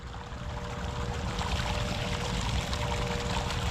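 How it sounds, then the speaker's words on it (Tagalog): Water gushes hard from a hose in open water, a loud, continuous rushing pour that stays strong and steady from start to finish with no voices. "Lakas ng tubig."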